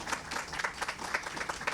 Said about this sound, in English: Applause, please, everyone.